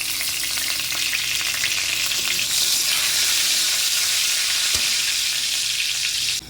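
Paneer sizzles steadily in hot oil in a pan with bay leaf, a dense, continuous frying hiss with faint stirring scrapes, loud and close throughout.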